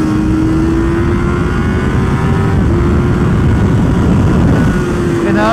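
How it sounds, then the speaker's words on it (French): A motorcycle brakes and downshifts at speed, its engine rising in sharp throttle blips at each gear change, loud and close over steady wind and road roar. "Freinage, coup de gaz, coup de gaz."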